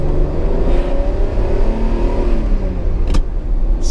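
A Ferrari Testarossa's flat-12 engine revs loudly and steadily up close, a raw, gruff low-pitched drone with rising and falling harmonics and a brief sharp click near the end.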